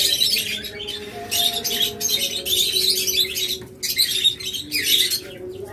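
Blue Quaker parrots at a bird seller's, a pair giving repeated shrill chirps and squawks in short bursts close by, with a low background hum throughout.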